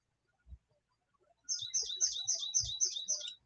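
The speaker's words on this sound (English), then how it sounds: "I hear a beautiful, beautiful bird right outside my window." A songbird sings just outside an open window, a rapid run of bright, high repeated chirps in a steady rhythm, fairly close and clear, preceded by a few soft indoor thumps.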